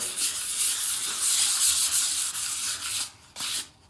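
Light, brisk rubbing on a repaired bathroom tile to fade darker areas, a close, hissy scrubbing that runs in steady back-and-forth strokes and tapers off near the end, with no voices.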